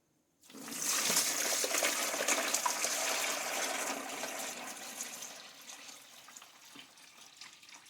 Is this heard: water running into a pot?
yes